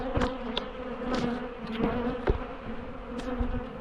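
Angry honeybees buzz around the hives, a loud, close, continuous drone with individual bees whizzing past the microphone.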